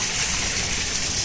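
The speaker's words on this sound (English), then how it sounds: "little waterfall here." Small waterfall in Welsh gold-prospecting country in March, a steady broadband rush of falling water filling the whole short stretch at constant level, close and loud, with no voices.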